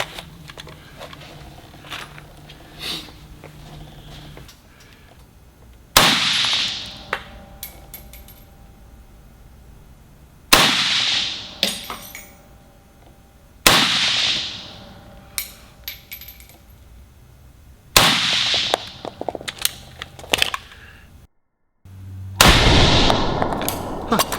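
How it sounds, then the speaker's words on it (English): Five or six loud gunshots fired at a target outdoors, each a sharp crack with a ringing tail, spaced several seconds apart, close to the microphone, with faint movement sounds between them. "so I just took a few shots"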